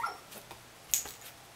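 Dogs shut outside whimper and yip in a few faint, brief bursts, high-pitched and thin against a quiet background.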